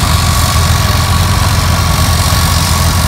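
A big old Caterpillar crawler tractor engine runs at a steady, heavy idle at a historical construction equipment show, a loud, continuous low diesel rumble with a constant throb and no voices over it.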